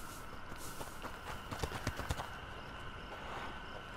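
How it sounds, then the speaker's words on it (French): Horse hooves clip-clopping in the video game A Plague Tale: Innocence, a quick run of distinct hoof beats over steady ambient game noise, moderately close and faint overall. "c'est un cheval"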